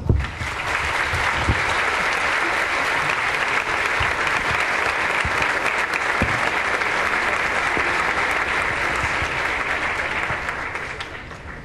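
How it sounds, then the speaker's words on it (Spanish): A lecture audience in Salta gives a loud, sustained round of applause to welcome the accountant Dr. Enrique Fowler Newton, dense clapping that holds steady for about eleven seconds before easing off at the end. "recibiéndolo con un fuerte aplauso"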